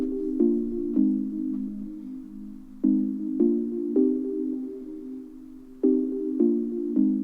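Simple synthesizer chords repeated in a steady pattern, soft and mid-toned, each chord struck twice or three times before changing, with no voices.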